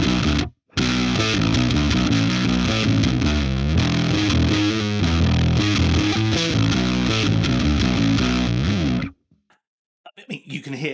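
Heavily distorted bass guitar through a Flattley boutique drive pedal with drive and volume maxed plays a loud, dense riff that stops abruptly, followed by a voice starting to talk.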